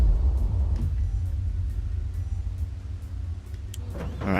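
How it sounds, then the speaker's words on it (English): Steady low engine rumble from a dump truck in Construction Simulator 2, a continuous idling drone that holds evenly throughout with a few faint mechanical clicks near the end. "I think I'm on the dump truck"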